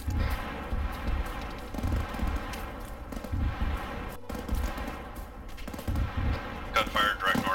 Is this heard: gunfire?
yes